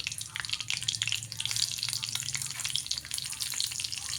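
Chillies crackle and sizzle in hot oil with curry leaves for sambar, a steady close frying hiss with small pops, no talking.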